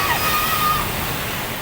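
Ocean waves rush and wash continuously nearby, a loud broadband roar of surf without a break.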